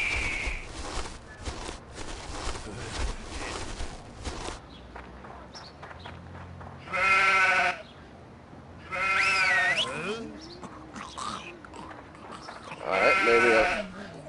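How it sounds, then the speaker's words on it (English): Sheep in the video game Stubbs the Zombie bleat three times, each wavering cry loud and close, separated by quieter stretches of footsteps and ambient game sound. "Maybe I'm supposed to scare the sheep."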